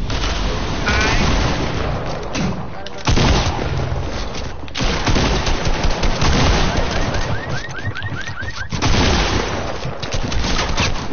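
Heavy video game gunfire and booms roar almost without pause, dense bursts and blasts running throughout with a brief voice or two buried in the din.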